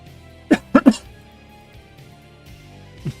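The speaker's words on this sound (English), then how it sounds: "Yeah, sorry, I'll be coughing a lot too." Three quick harsh coughs burst out close together near the mic, followed after a pause by a single softer cough, over a quiet low background hum.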